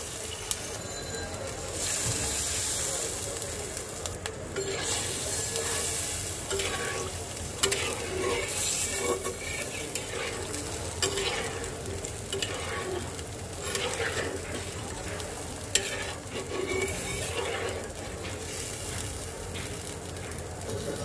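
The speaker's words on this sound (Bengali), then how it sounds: "এখন আমি দিয়ে দেব ঝোলের জন্য জল।" Water poured into hot, sizzling masala for a hilsa fish curry with potato and eggplant produces a loud, steady hiss with stirring scrapes over about twenty seconds.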